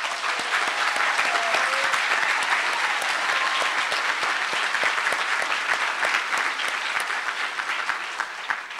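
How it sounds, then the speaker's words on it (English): Sustained audience applause at the 2012 UCLA Institute of the Environment and Sustainability commencement, honoring the graduates: a dense, steady wash of many hands clapping across a large outdoor crowd, with faint voices mixed in throughout. "So go ahead and give them a big round of applause."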